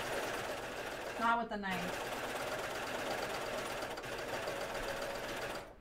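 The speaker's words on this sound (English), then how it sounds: "I'm going to let my serger foot go over this" A serger whirs steadily as it stitches over denim jeans fabric, a close continuous mechanical hum with a brief pause, while a person speaks over it.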